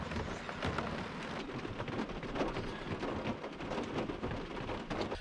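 Steady rain pours down around a parked van near Bidart beach, a dense, continuous hiss close by with no talking, with occasional low rumbles mixed into the downpour.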